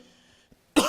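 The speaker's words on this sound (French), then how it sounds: "Il y a une toux qui m'a attrapé ici." A single sharp cough bursts out after near silence, close and fairly loud, with a faint earlier throat sound and a brief hum of background tone from a church sermon setting.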